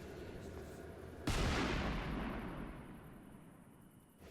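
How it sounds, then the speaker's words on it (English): A single Freedom Finale mortar firework in the video game Fireworks Playground goes off with one sharp, loud boom and a long fading crackling tail after a quiet start. "Next we're gonna do the Freedom Finale mortar one shot."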